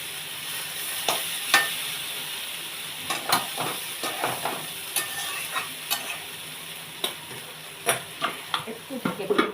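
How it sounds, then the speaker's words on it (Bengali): Potato and bottle gourd stems fry in a pan for a thin fish curry, a steady sizzle broken by repeated scraping stirs every second or so, close and fairly loud. "একটু ঢেকে ঢেকে ভেজে নেবো।"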